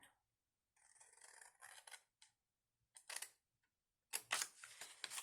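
Scissors snip through scored paper for a Christmas box ornament, giving quiet, close crisp cuts in short bursts separated by pauses, the final strokes louder and sharper.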